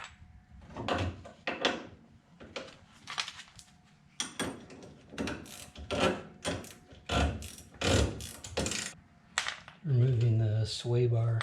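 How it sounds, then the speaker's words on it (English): A ratchet working on the sway bar connector of a 1969 Mustang during ball joint and lower control arm replacement, a series of short clicking bursts in uneven rhythm, close and fairly loud, with a person talking. "Removing the sway bar connector."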